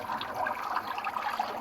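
Spring water flowing on a waterfall hike in South Africa, a soft continuous trickle and splash, fairly faint and close, with no voices.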